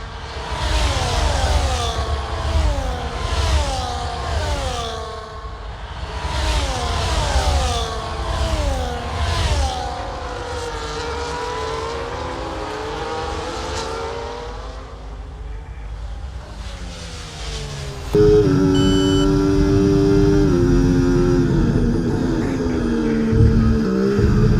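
Formula 1 car engine in the EA Sports F1 24 racing game at Montreal's Circuit Gilles Villeneuve, screaming loud and close with rising and falling revs through repeated gear shifts, then settling into a steady, high-pitched full-throttle whine.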